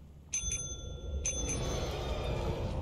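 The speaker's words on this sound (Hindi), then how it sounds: "इनको 2 बार घंटी बजा वापस दे देगा।" Two double rings of a bicycle-style bell in the video game Lethal Company, sharp metallic dings in quick pairs about a second apart, over a steady low rumble of game ambience.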